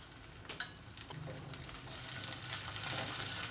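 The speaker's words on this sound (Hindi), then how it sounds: "अब मैं ये इसमें मटर डाल रही हूँ और इन्हें मैं फ्राई करूँगी।" Peas frying in a pan for chicken macaroni, a quiet, steady low sizzle with a sharp clink near the start, close by and faint, no talking.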